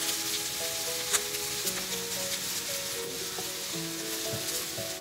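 Mashed vegetables and turmeric sautéing in hot oil, a dense continuous sizzle with a faint tonal hum beneath and occasional light stirring taps, no voices.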